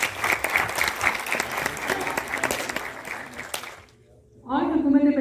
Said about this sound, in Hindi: मैं चाहूँगी कि आगाज़ में हम सब उनके लिए तालियां